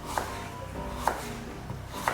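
A knife cuts a halved carrot into long sticks on a board, giving three soft, separate chops spaced about a second apart, quiet and close over faint room noise.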